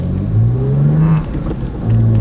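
A BMW Z4 3.0si Coupe engine revs up with a rising drone, dips briefly, then revs again; close and loud, with no talking.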